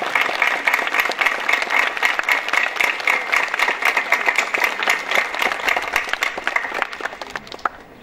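Sustained applause from a church congregation at a thanksgiving Mass in Lębork for the canonization of John Paul II, a dense steady clapping that fades slightly near the end.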